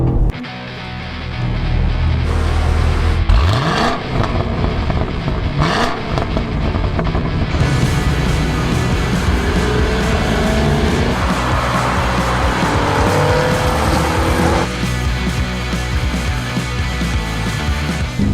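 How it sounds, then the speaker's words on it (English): A 2022 Cadillac CT5-V Blackwing engine roars and revs as it accelerates hard around the VIR racetrack in Virginia, with gear changes and a sustained loud drone throughout. "Heading out onto VIR in Virginia in the 2022 Cadillac CT5-V Blackwing, and this thing is a rocket."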